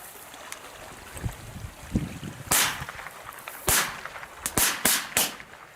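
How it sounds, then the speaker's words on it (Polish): Small firecrackers set off outdoors pop one after another in a quick series of sharp, loud bangs, some spaced apart and a tight cluster near the end, over faint background hiss. "taka powtarzalność, wszystkie petardy wybuchły"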